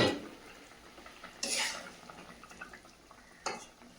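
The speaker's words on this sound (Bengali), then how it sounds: "ঢাকনাটা খুলে দেখে নেবো।" Metal clanks against a cooking pot as its lid is lifted and set down, two short close clatters amid quiet kitchen background, no speech.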